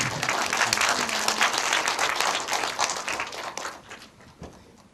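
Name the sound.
audience applause welcoming the director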